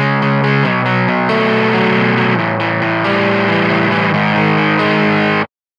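Heavily distorted, glitchy guitar tones through a Soundblox Pro Multiwave Distortion pedal, a loud continuous riff with shifting broken, messed-up textures for about five seconds before cutting off abruptly.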